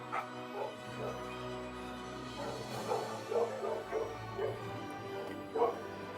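Dogs bark and yip in short, repeated bursts in a film scene set in space, over a sustained droning background, with a few whimpering notes between them.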